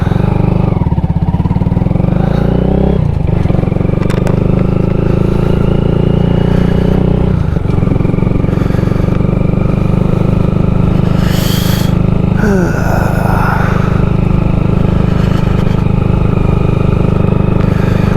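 A 2022 Honda Grom motorcycle being ridden, its steady engine drone continuous and fairly loud throughout, with a brief clatter and a shift in tone partway through and no talking.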